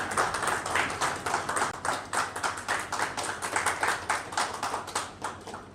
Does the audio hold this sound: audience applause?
yes